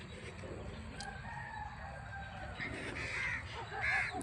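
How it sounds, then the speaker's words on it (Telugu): Birds call across a quiet village setting, crow-like caws and clucking fowl rising briefly over a steady outdoor background, growing a little louder near the end. "చూడండి పక్షుల సౌండ్ ఎంత బాగా వినపడుతుందో"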